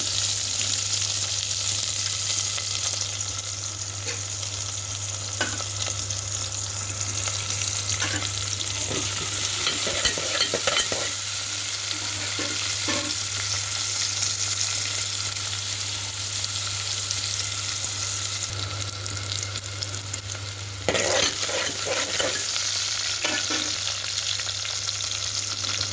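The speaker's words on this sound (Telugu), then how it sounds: "ఆయిల్ వేడైన తర్వాత కొంచెం ఆనియన్ వేసుకుందాం. ఆనియన్ పచ్చిమిర్చి వేసుకుందాం." Chopped onions and green chillies frying in hot oil in a pan, a steady dense sizzle running throughout with occasional scraping stirs, close and fairly loud.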